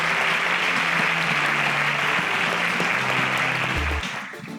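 A crowd applauding steadily and loudly, dense clapping that holds for several seconds, then tapers off at the end.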